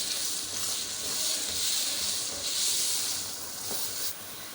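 Chopped tomatoes and green chillies sizzle in a hot pan while being mixed, a continuous close steamy hiss swelling and easing with stirring.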